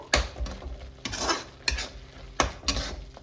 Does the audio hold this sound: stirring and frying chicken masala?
yes